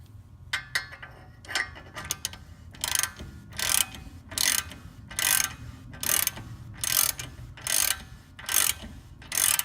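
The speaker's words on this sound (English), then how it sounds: "Alright, so we have loosened the last 18 mil." A ratchet loosens the 18 mm brake caliper bolts on the front brakes of a BMW E92 M3, giving a series of close, loud ratcheting bursts in a steady back-and-forth rhythm after a few lighter clicks.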